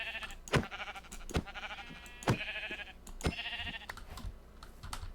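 Blocky video game sheep bleating as it is struck with a wooden pickaxe, several sharp hit clicks and a few nasal bleats in quick succession, quiet, over faint game ambience.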